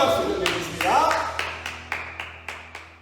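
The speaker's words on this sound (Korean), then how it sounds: "하나님께 영광의 박수 올려드리겠습니다" A group of children claps in praise to God during a Sunday church service, rapid clapping under talk that gives way to a steady series of about seven sharp, evenly spaced claps.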